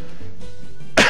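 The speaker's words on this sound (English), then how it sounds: "I have a little bit of a cough." One sharp, close cough bursts out at the very end after near silence.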